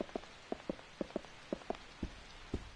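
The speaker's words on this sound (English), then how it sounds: "The rain on the windows is so great looking." Rain pattering against windows in the video game Yakuza 4: soft, irregular drops tapping close by, a dozen or so distinct taps over a faint steady hiss, with no voices.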